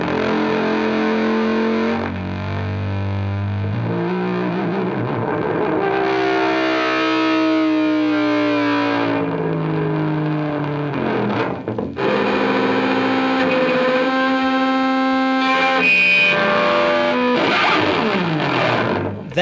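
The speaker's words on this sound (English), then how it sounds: "That sounds to me like scratching along the string windings" Eerie, distorted scrapes along the string windings of a detuned Gibson Les Paul electric guitar, sliding tones and swooping pitches layered with echo and effects, sustained and loud throughout.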